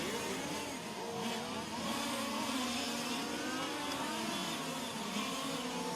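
1/5 scale on-road RC race car engines at a world championship race, a steady high whining buzz from several small engines passing together down a straight, their pitches rising and falling and overlapping, fairly distant and continuous.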